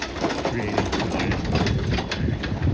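A leaf blower runs steadily outdoors at a busy Disney World park, giving off a continuous whirring, vacuum-like drone with rapid fluttering texture, fairly close and loud with faint background voices.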